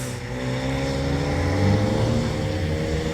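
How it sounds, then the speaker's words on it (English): A Mark II VW Golf, a front-wheel-drive historic rally car, drives on a skid pan at Oulton Park. Its engine drones loud and steady nearby, rising slightly in pitch midway as it revs, with no voices over it. "First front wheel drive car of the day, the Mark II Golf."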